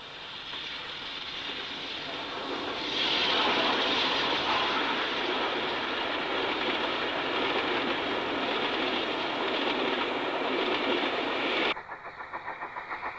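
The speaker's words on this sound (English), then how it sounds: "sees one of the ex-LMS Class 4 tanks 42639 running through with the Saltburn train." An ex-LMS Class 4 steam tank locomotive, 42639, rumbles past with its train, a steady, dense roar and rhythmic clatter of wheels, building up, then cutting off abruptly near the end.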